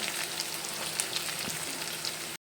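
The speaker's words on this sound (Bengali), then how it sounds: "পেঁয়াজ আর আদা রসুনটা ভাজা হয়ে গেলে এখন গুঁড়ো মশলাগুলো দিয়ে দিবো" Ground spices fry with onion, ginger and garlic in hot oil, making a steady, dense sizzle that carries through the whole stretch at close range and then cuts off abruptly.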